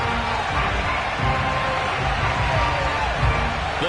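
A stadium crowd in a Madden NFL video game hums and cheers steadily, a dense, continuous roar that holds at one level throughout.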